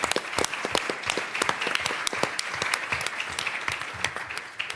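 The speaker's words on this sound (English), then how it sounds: "Yes, you can clap for him." Applause from an audience at a mayoral press event in New York City, many hands clapping steadily with sharp individual claps standing out, fairly close and sustained throughout.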